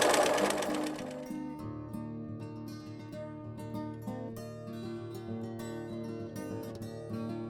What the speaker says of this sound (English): If you have needle down position on your sewing machine, you can leave the needle down, pivot, turn, and continue on the dotted line.